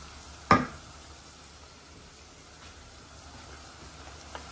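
A glass of water poured into a hot pan of browned mushrooms hits with one sharp sizzling burst, then settles into a quiet, steady frying hiss with a faint knock near the end.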